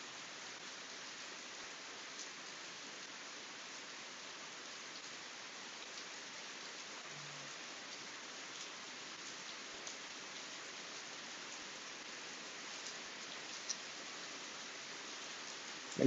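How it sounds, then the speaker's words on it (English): Steady outdoor rain falls in an even, unbroken hiss, soft and constant throughout, with no voices. "And this rain is actually quite soothing."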